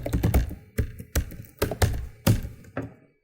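A password is typed on a computer keyboard in short bursts of close, crisp key clicks, with several clusters of strokes separated by brief pauses and no voices.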